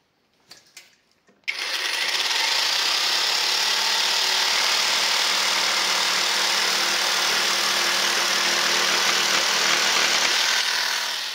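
A Parkside Performance cordless jigsaw at speed 4, fitted with a rough-cut wood blade, starts after a few handling clicks and then saws wood with a loud, even, continuous buzz for about ten seconds.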